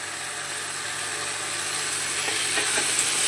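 Grated carrot and beetroot sizzle in a pan with ginger, a steady, close frying hiss that builds slightly toward the end, with soft stirring scrapes and no voices.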